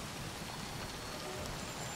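Steady rain patters continuously in the Call of Duty Cold War campaign, a soft, even hiss of drops on surfaces with no pauses or other sounds.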